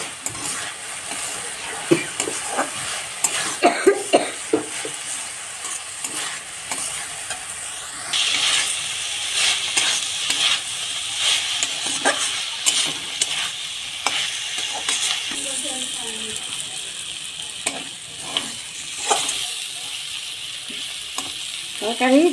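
Curry of fresh beans and dried fish with cumin sizzles and crackles in a pan, stirred with repeated scraping and clinking strokes of a spoon against the metal over a constant frying hiss.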